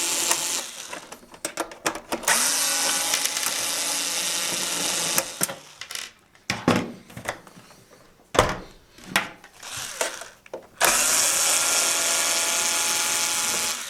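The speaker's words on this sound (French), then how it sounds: "Dévisser ces vis Torx numéro 15 à l'aide du tournevis ou de la visseuse." Power screwdriver backing Torx 15 screws out of a vacuum cleaner's lower casing, several close buzzing whirs of a few seconds each separated by clicks, handling noises and short pauses.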